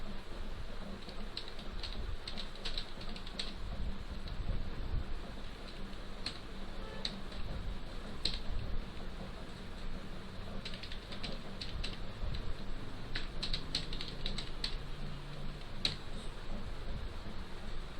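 An email address is typed on a computer keyboard, light scattered key clicks coming in short bursts over a low room hum, with no voices.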